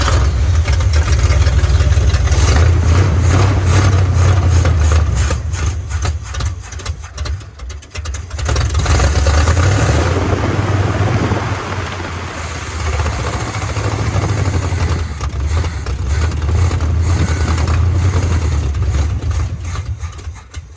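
An old square-body Chevy truck engine runs rough and loud up close, a heavy low idle that dips and sputters briefly before catching and running again.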